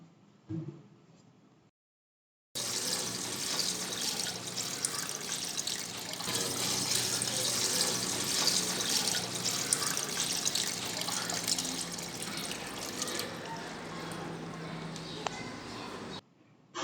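Water from a supply gushes steadily into a tank for about fourteen seconds, a constant splashing rush, with brief quiet sounds before it starts.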